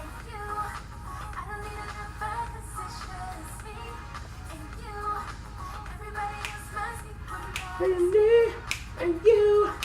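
An R&B song plays with a steady beat, finger-snap-like percussion and sung melody lines rising toward the end, without talk over it.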